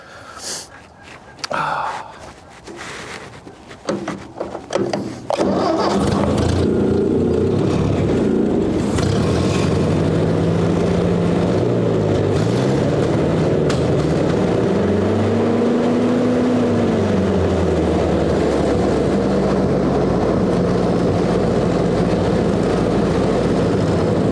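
A 1958 Ford 851 tractor engine cranking in several short bursts, then catching and running steadily with a loud continuous rumble whose pitch rises and falls as the throttle changes.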